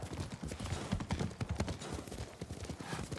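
Horse hooves clip-clop steadily while riding in the Ghost of Tsushima video game, close and rhythmic at a walking or trotting pace, with a brief snort or whinny and no speech.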